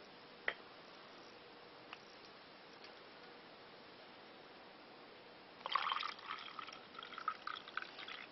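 Cold water is poured into a measuring vessel while making strawberry daiquiri and fruit tingle jelly shots, a quiet trickle that swells near the end after a few faint drips and taps.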